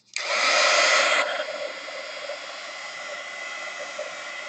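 A heat tool switches on and blows hot air onto a piece of artwork, a sudden loud rushing whoosh that eases slightly after a second and keeps roaring steadily, alone and close.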